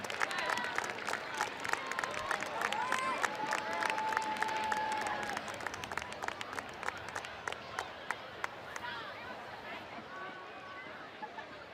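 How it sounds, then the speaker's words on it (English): Crowd applause at a halftime ceremony during a high school football game, a continuous, fairly distant wash of clapping and cheering from the stands, with voices talking over it and the clapping thinning out toward the end. "Let's give a big Hampton round of applause for the latest inductees into the Great American Rivalry Series Hall of Fame"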